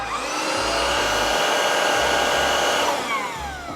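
A Tineco iFloor cordless vacuum mop is switched on and runs with a steady, loud, high motor whine close by. The pitch drops slightly as it winds down near the end, with no speech.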